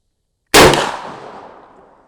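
A single loud close Mossberg shotgun blast fires a slug with bead sights, a sharp crack after brief silence followed by a long fading outdoor echo.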